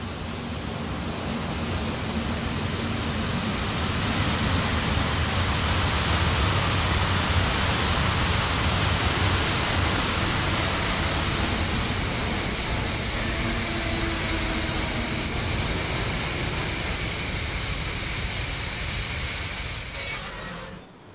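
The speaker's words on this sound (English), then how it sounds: "This is the train I'm stopping for 20 minutes." A train in the SimRail game brakes to a stop with a long, steady high wheel squeal over rolling rumble, loud and continuous for about twenty seconds before cutting off, with no voices.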